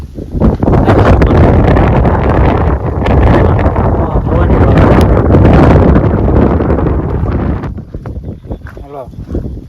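Strong wind gusting hard across a rooftop terrace, a loud, close roar buffeting the microphone for most of the clip before easing near the end, with a voice talking over it.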